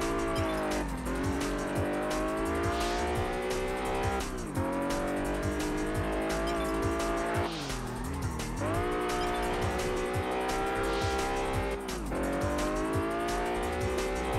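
Loud car engine revving in a video game, Test Drive Unlimited, with repeated long tire squeals as the vehicle slides through several drifts, rising and falling pitch throughout.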